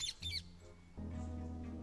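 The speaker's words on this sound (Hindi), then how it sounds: "राजा के नौकरों ने तोते का गाना सुना" A parrot in a storybook tale about a king gives one quick, shrill squawk at the very start, then a low sustained musical drone takes over.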